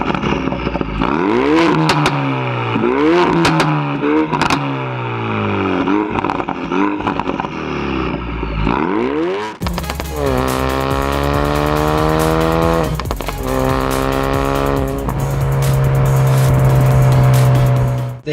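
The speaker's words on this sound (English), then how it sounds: "let's start it up and listen to that exhaust" A 380 brake horsepower Mountune-tuned Ford Focus RS with a Scorpion exhaust, close up and loud, its engine blipped through a series of sharp rising and falling revs, then held in long, steady, droning revs, with no voices.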